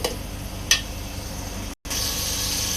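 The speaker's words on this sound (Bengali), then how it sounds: "মশলাটা কষানো হোক, আমি মশলাটা একটু নেড়ে দিব।" Spice paste of turmeric and chili powder with water frying in a pan for a shrimp and gourd dish, giving a steady, close sizzle with a couple of brief scraping stirs and a momentary dropout.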